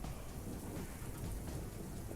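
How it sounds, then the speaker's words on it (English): Thunder rumbles in a heavy rainstorm, steady rain pattering on surfaces beneath a continuous low roll of thunder, loud and close with no voices. "Luckily, it's an explosion of lightning."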